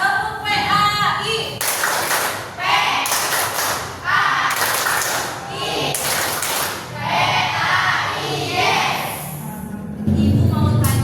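A classroom of students performs a rhythmic PAI clapping chant, with bursts of hand claps and taps in a patterned beat, mixed with children's voices chanting along throughout.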